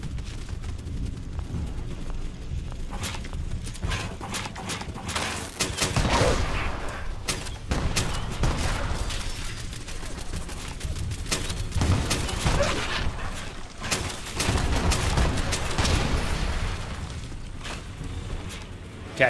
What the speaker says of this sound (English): I did not realize that was such a big explosion there.